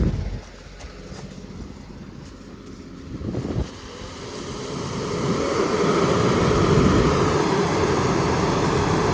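An Airojet spraying machine engine holds a steady, loud droning roar at about 2000 rpm. The sound builds slightly after a brief dip and then stays continuous with broadband noise.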